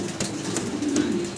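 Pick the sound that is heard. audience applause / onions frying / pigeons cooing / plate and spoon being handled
pigeons cooing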